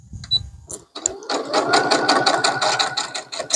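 A sewing machine stitches around a crazy quilt block, starting after a few brief clicks and then running as a fast, steady close whir with a rapid mechanical beat to the end.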